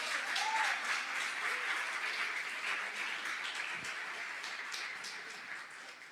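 A church congregation applauds steadily throughout, a dense, sustained wash of clapping from a large room that fades slightly toward the end.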